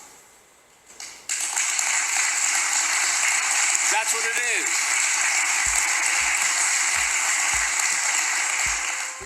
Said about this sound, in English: They in there clapping like it's the fucking Oscars